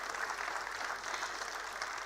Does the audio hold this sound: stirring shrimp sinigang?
no